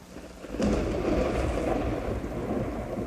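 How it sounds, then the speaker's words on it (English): A thunderstorm with heavy rain: a deep rumble of thunder rolls in after a quieter start and is then joined by a dense, steady downpour that holds loud and close to the end. "Until finally those clouds of gas and steam condense and rain upon that planet."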